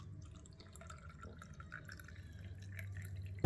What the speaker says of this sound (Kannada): ನಾನೊಂದು ಗ್ಲಾಸಿಗೆ ಹಾಕ್ಕೋತಾ ಇದ್ದೇನೆ.